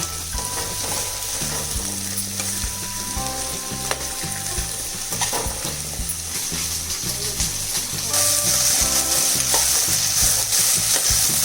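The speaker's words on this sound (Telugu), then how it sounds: "వేయించుకోండి దొండకాయ ఒక పచ్చి వాసన పోయేలాగా" Ivy gourd (dondakaya) frying in oil while being stirred, a continuous sizzle with scraping and clinking stirring noises over background music.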